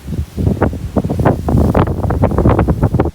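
Strong wind gusts buffet the microphone on the hilltop at Karikkad Top in Vagamon, a loud rumbling roar in uneven bursts with no voices.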